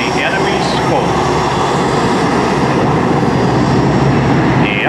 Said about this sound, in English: F-117 stealth.